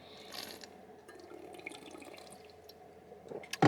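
Someone drinks water during casual conversation, with faint sloshing and small liquid sounds close by over quiet room tone, ending in a sharp louder gulp or clink.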